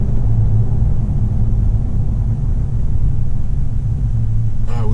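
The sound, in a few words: heavy road traffic heard from Tacoma truck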